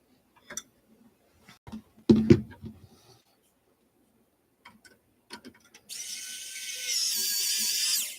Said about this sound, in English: I'm also switching between a mechanical screwdriver and just a regular basic screwdriver